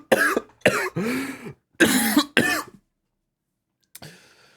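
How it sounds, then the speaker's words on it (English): A person recovering from illness coughs in a series of five sharp, close coughs and throat-clearings, loud and separated by short gaps, followed by silence and a faint rustle. "That's why I have a little bit of a cough"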